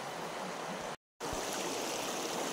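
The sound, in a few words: flowing mountain stream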